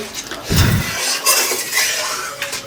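A lid is set onto a cooking pot holding potatoes and water for a spicy fish curry, giving a loud metallic clatter and clink followed by a few lighter rattles, with no talk over it.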